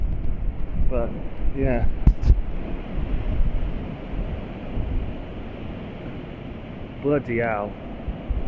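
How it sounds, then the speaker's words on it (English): Strong, roaring wind from Storm Dudley blows steadily against the microphone throughout, with someone speaking briefly over it near the start and again toward the end. "It's gonna be a record-breaking storm. Listen to that roar though."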